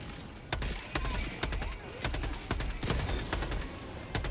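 Gunfire from a gun in the Helldivers 2 video game: sharp repeated shots in irregular bursts, punchy and close, with short gaps between volleys and a faint background hum.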